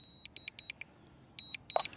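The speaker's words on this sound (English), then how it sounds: "Hear that beeping? Drone's already elevating." A DJI Mini 4K drone beeps during a return-to-home flight, sounding a series of short, sharp electronic beeps in quick groups with brief pauses between them. The beeps are close and clear over a faint background.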